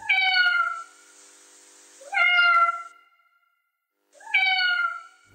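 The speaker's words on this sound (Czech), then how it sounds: "Přijde sama, dotkne se nás ocáskem a zamňouká." A single cat meows three times in clear, close, drawn-out calls separated by short pauses, with no other sounds around them.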